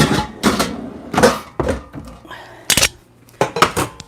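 Metal pot and utensils knocked and set down on a kitchen counter while preparing shepherd's pie, several sharp clanks and thunks in an irregular rhythm, close and fairly loud, with faint talk between.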